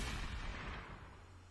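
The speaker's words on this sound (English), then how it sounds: "It was a gunshot." A gunshot in the video game OZMAFIA!!: one muffled, booming report that fades away quickly, fairly faint and heard alone.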